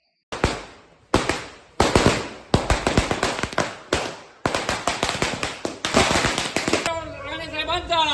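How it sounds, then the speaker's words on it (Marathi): A long string of firecrackers bursts outdoors at a political victory celebration, loud rapid crackling bangs in dense volleys with brief gaps, ending in a hissy, smoky rasp as the string finishes. "आम्ही बाहेर 2 मिनिटाचा फटाके वाजवून जल्लोष साजरा करणार आहोत"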